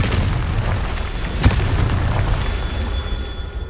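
A Confringo spell blast in Hogwarts Legacy erupts as a single sharp boom midway through a loud, dense rumbling wash of game noise, close and forceful.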